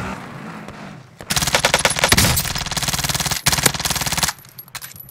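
Submachine gun fire in Call of Duty Warzone erupts as one loud, rapid sustained burst lasting about three seconds, with game ambience before and after it.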